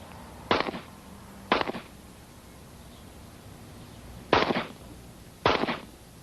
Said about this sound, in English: At target practice, his alter personalities take turns shooting.